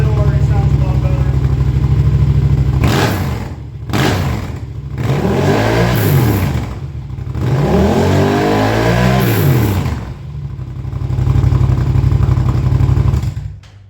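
Close up, a Yamaha R7 motorcycle with a Dominator exhaust idles, then gets revved in several sharp bursts that rise and fall, about three strong pulls in turn before it drops back to a rumbling idle.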